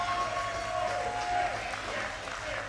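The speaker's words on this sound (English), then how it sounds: "Crowd on there cheering for Brandon Day" A wrestling crowd cheers for a wrestler in the video game Super Shogun Wrestling, a steady wash of roaring noise throughout with a faint high tone sustained for the first half.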